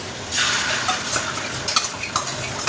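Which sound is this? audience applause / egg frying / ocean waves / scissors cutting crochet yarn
egg frying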